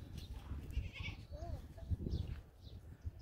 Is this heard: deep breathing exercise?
no